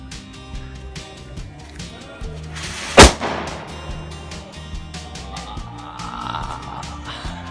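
A green bullet bomb firecracker goes off once near the middle, a single loud, sharp blast standing out against quiet background noise, with no talk.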